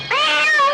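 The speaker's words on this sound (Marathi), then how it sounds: "ती मांजर आहे." One brief, loud meow from a cat, close by and clear, rising then falling in a single plaintive call with nothing else around it.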